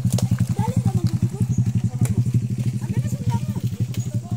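A motorcycle engine runs steadily up close with a rapid, even low throb while carrying a load of bananas on a rural farm trip, voices chatting loosely over the engine.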